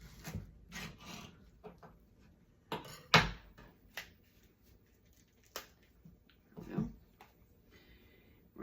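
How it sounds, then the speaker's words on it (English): A spoon scrapes the seeds out of a halved zucchini in quiet, irregular strokes, with soft rasping rubs and a few sharper knocks against the hollowed flesh, close and faint. "We're going to scoop out the inside"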